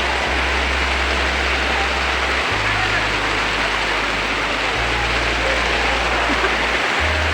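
Rain pours down outdoors, a loud, dense, even hiss of falling water that holds steady for the whole stretch, with a low hum running underneath.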